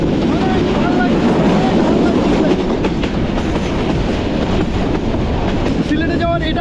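A passenger train running between Chittagong and Sylhet makes a steady, loud rumble and rattle close by, with a continuous roar throughout.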